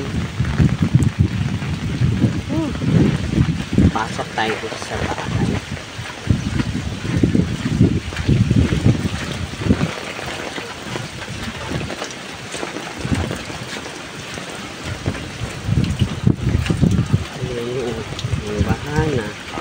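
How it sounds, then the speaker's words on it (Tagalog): Gusty wind and rain roar around a flooded area in Narra, Palawan during a shear line and northeast monsoon, rising and falling in bursts while people talk over it nearby. "Samaan pa ang hangin."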